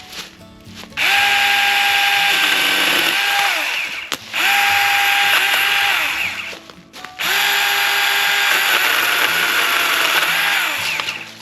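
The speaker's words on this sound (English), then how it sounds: "This is the Seesii pole saw that they sent me previously." Seesii cordless pole saw cutting through tree limbs, three sustained high-pitched motor whines with a steady chain buzz, each run starting abruptly, dipping under load and stopping, loud and close with brief pauses between.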